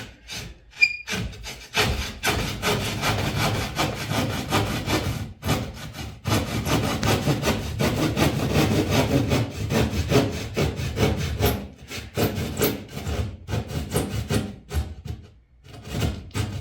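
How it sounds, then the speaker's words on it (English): A hand saw cuts through drywall in long, steady rasping strokes with short pauses between passes, close and fairly loud, and no voices. "So when you cut in here, the drywall tends to pinch the blade a lot more than it should"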